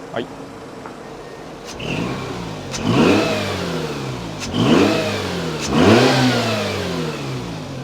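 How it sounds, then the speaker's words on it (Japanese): A Mazda RX-8 Spirit R, SE3P, with a rotary engine, idles and then gets three quick, light throttle blips that rise and fall sharply. It is close and loud, with a person talking in between. "ちょっとアクセル軽く開けますね。"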